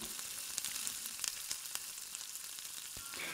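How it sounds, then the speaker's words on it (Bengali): Maggi masala spice mix stir-fried in a hot pan, a steady quiet sizzle with soft scraping stirs and occasional light ticks, no talking. "দিয়ে ভালো করে নেড়ে নেব সবটা আর একটু কষিয়ে নেব।"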